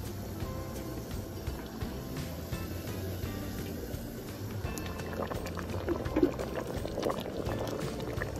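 Boiled water being poured into a pot of vegetable broth for an iron-rich soup, a steady bubbling, liquid rush running throughout at moderate level, with a few brief clinks near the end.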